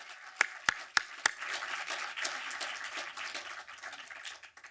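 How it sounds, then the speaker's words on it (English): Audience applause at a film screening co-presented with the National Museum of African American History and Culture, opening with a few sharp separate claps before swelling into sustained crowd clapping, moderately distant. "let's give them a round of applause too, please"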